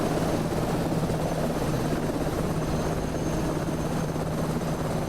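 A simulated Airbus H160 helicopter in Microsoft Flight Simulator 2024 makes a continuous rotor thrum and turbine drone, steady and moderately quiet, with no voices.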